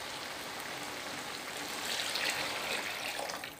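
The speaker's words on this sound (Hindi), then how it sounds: "अब हम इसमें 3 ग्लास पानी डालने लगे हैं ये देखें" Three glasses of water poured into a pot of fried potatoes, a continuous hissing, splashing rush that swells slightly near the end, close and steady, with no talking over it.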